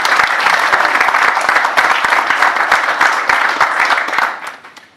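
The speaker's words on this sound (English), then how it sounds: "And I think they all deserve a round of applause." An audience claps loudly at the CII Grant Thornton India Tracker 2018 report launch, a dense steady round of applause that holds for about four seconds, then quickly fades out.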